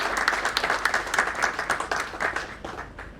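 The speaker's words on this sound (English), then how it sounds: "a big round of applause, please" An audience applauds with dense, steady clapping that slowly thins out toward the end.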